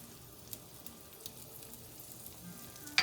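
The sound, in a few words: butter sizzling in a pan with sage and paprika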